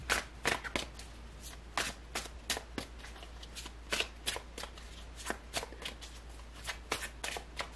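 Tarot cards being shuffled by hand in a steady run of crisp, rapid riffling flutters and soft slaps, close and clear against a low background hum, with no talking.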